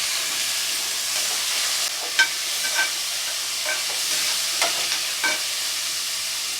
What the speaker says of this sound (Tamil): தக்காளி ஆட் பண்ணிக்கிறேன்.